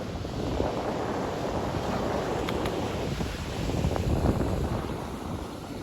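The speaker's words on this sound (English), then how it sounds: "you've got all the waves going on right there" Rushing sea waves and wind noise off Yanbu, Saudi Arabia, fill the recording, a continuous broad wash that swells slightly toward the end, with no voices.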